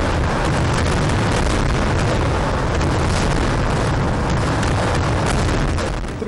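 Thrissur Pooram fireworks display explosions forming a dense, continuous wall of loud booms and crackling bursts, overlapping with no pauses for the full stretch.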